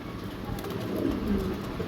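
A pair of racing pigeons coo softly and steadily at a bird sale, faint and somewhat distant under a low background hum, with no voices.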